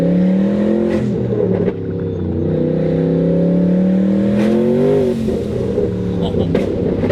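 Heavily modified 900-horsepower Ford Mustang Boss 302 engine revving loudly and steadily up close, its exhaust note rising and falling with crackling burbles between pulls and brief voices underneath.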